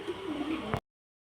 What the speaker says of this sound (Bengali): আকাশের বাড়ি থেকে দুটো পায়রা নিয়ে আসবো, ফ্যান্সি পায়রা